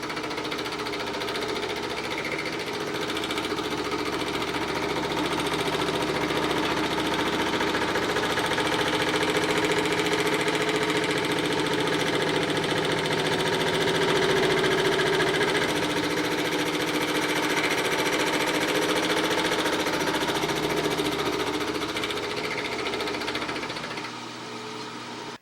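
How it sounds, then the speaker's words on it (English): A milling machine cuts a spot on the frame of an 1880s steam drilling engine, giving a steady, loud mechanical drone and chatter throughout that eases slightly near the end. "I'll show you a few more cuts that we're taking at this stage of milling the spot."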